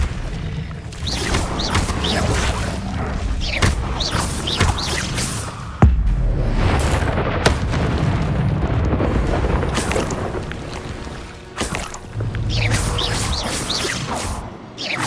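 Spells cast in the Hogwarts Legacy video game: repeated whooshing bursts and booming impacts, one sharp crack near the middle, with fiery rushes and blasts coming in uneven clusters at loud, close range.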